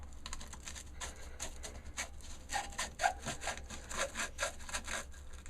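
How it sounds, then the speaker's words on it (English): Wood is sanded by hand with 120 grit sandpaper on a turned wooden guiro. The strokes come as a quick, irregular series of close scratchy rubs, getting louder and denser in the second half. "This is just 120 grit at the minute, just to make sure there's no splinters on it for Charlie"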